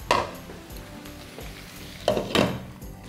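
A metal lid is set onto a pan of salted mushrooms frying for a lasagna, giving two close clanks near the end over a low, steady sizzle and a few faint knocks.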